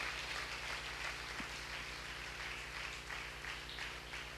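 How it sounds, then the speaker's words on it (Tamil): A church congregation at a Tamil Sunday service claps hands together in continuous, dense applause over a steady electrical hum, sustained without pause. "நல்ல கை தட்டி ஆண்டவரை மகிமைப்படுத்துங்க"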